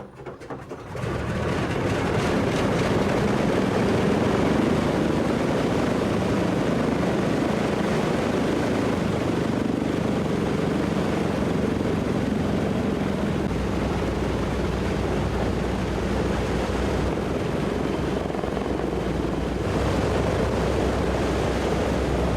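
A Lockheed Constellation propliner with four Wright turbo-compound piston engines takes off, a loud sustained multi-engine propeller roar that swells after a quiet start and holds steady, with no talking.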